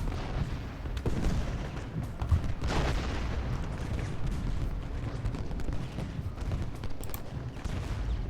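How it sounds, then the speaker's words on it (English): Musket volleys and artillery fire crackle and boom without pause in the Civil War strategy game Ultimate General Gettysburg, a dense, continuous rumble of distant shots with occasional louder reports. "But we will move Day up and open fire on Wilcox"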